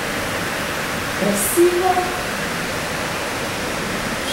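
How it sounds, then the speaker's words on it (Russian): Water runs steadily down an indoor feature wall in Terminal 3 at Dubai airport, a constant hiss-like wash throughout, with a brief spoken remark partway through. "И по стене вода бежит такая."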